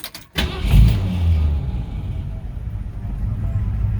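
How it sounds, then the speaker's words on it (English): A 1950 Ford F1 truck with a 351 Windsor V8 cranks briefly and catches, settling into a loud, close, steady low rumble after a click at the start. "I'm gonna start her up. She's really easy to start unless she's been sitting a long time."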